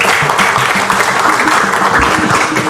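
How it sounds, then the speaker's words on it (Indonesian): Loud, close applause from the audience at a direct-selling business presentation for Kangen Water and Enagic: a thick, continuous burst of clapping that stays strong from start to finish. "Tepuk tangan."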